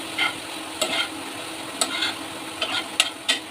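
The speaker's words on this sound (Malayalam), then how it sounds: "ഇടയ്ക്കിടയ്ക്ക് ഇങ്ങനെ ഇളക്കി കൊടുത്തോണ്ടിരിക്കണം" Payar (green bean) stir-fry stirred in a pan, a steady soft sizzle broken by a handful of sharp spatula scrapes and clicks at irregular intervals, close by with no voices.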